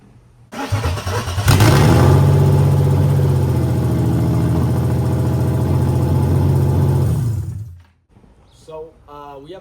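A turbocharged BMW E36 with no cooling system fitted cranks, fires and runs loud and rough with blips of revving for several seconds before cutting off abruptly, a voice following afterward.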